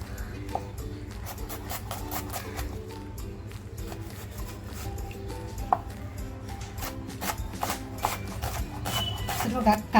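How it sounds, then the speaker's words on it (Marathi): A knife chopping an onion finely on a board in a home kitchen, with rapid, steady close tapping running throughout under a low background hum, while someone talks over it. "कांदा आहे ना एकदम बारीक कापून घेते"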